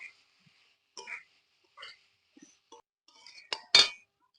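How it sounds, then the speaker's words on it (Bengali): Fried potatoes being stirred into cooked spices in a pot for a vegetarian aloo dum with cashews, heard as a few scattered clinks and scrapes of a utensil against the metal pot, the last one loudest, with quiet gaps between them. "এরপর দিয়ে দেবো ভেজে রাখা আলু। ভালো করে কষিয়ে নেবো।"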